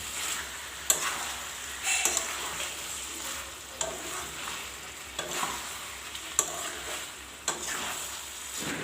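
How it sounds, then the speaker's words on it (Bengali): Chicken meat sizzles in a pan while being sautéed, with a soft steady frying hiss broken by regular scraping knocks of a spatula stirring, close and fairly quiet. "এই মাংসটা কষতে প্রায় 10 মিনিট টাইম লাগবে"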